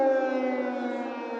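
A civil defense air raid siren sounds over Kyiv, a sustained steady wail with rich harmonic tones held loud and unbroken throughout.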